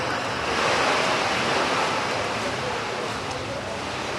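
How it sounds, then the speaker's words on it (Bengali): Heavy rain with gusty wind during a thunderstorm at Kolkata airport, a dense roaring wash of rain and wind buffeting the microphone, steady and loud throughout. "বজ্রবিদ্যুৎ সহ বৃষ্টির সঙ্গে ঝোড়ো হাওয়া রয়েছে"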